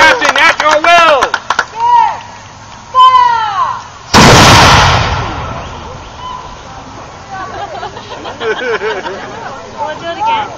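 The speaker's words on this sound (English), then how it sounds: "Now, there are 21 steps in the loading and firing of this cannon." Historic muzzle-loading cannon fires a salute at an outdoor demonstration, one loud booming blast that rolls and decays, set among a crowd's excited cheering and voices before and after.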